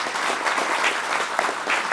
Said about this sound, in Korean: 여러분 큰 박수를 부탁드립니다.